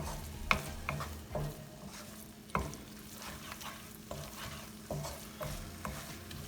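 Egg bhurji being vigorously stirred in a frying pan, with a spatula scraping and clacking against the pan at irregular intervals over a steady close sizzle.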